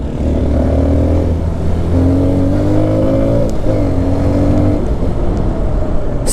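An NK 150 dirt bike engine drones loud and steady while being ridden, its pitch rising and falling through gear changes in a continuous close-up buzz.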